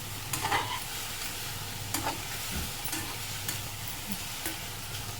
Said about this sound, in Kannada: ಸ್ವಲ್ಪ ಹಸಿ ವಾಸನೆ ಹೋಗುವವರೆಗೂ ಅಷ್ಟೇ ಸ್ವಲ್ಪ ಮಟ್ಟಿಗೆ ಬಾಡಿಸಿ